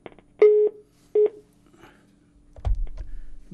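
Telephone line tones as a call connects on a live call-in TV broadcast, two steady beeps a short gap apart, then a clicking connection and low rumbling line noise.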